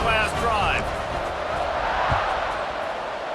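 A large crowd roars steadily at a college football game in EA Sports College Football 26, Georgia Tech vs BYU, a loud sustained wash of cheering with a voice briefly heard over it.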